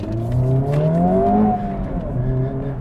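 A Honda Civic Type R pulls hard under acceleration, its engine note climbing in pitch through the revs with a steady, sustained drone and a brief dip partway through.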